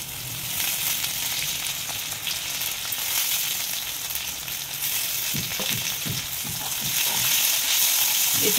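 Curry leaves, seven or eight sprigs, sizzle and crackle in hot oil for moong khichdi, a steady loud hiss throughout with a few sharper spatters and stirring clicks near the end; no voices.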